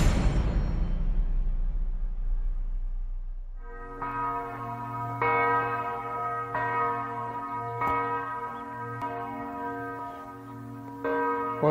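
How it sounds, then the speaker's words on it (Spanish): A church bell rings out at the Dachau concentration camp in Bavaria, a series of loud resonant strikes roughly every second and a half, each leaving a long humming tail, following a fading earlier tone and low rumble. "Así suena una campana repicando desde el campo de concentración de Dachau."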